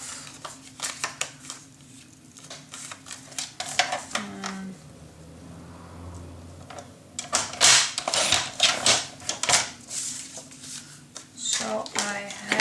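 Scissors cutting a piece of patterned craft paper in half, a run of crisp snipping and crinkly rustles that comes in clusters after a stretch of handling, close up while someone talks over it.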